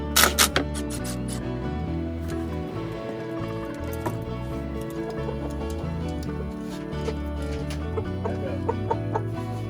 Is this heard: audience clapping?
no